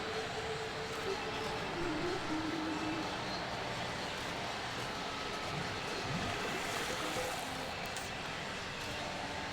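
Steady rumble and rushing noise of a subway train in the video game Little Big Planet, running continuously at moderate level with faint tonal hum, no talk.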